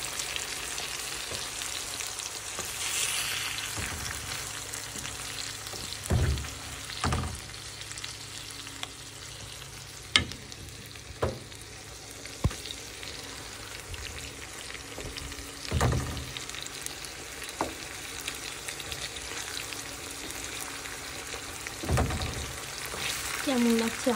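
Onions fry with hilsa fish in a pan, giving a continuous soft sizzle. Occasional louder scrapes and knocks come from the stirring utensil at irregular intervals.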